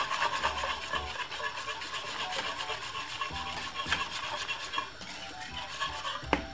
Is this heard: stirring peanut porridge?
yes